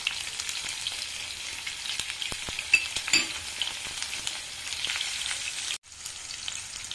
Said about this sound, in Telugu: అన్నీ వేసి దోరగా వేయించండి.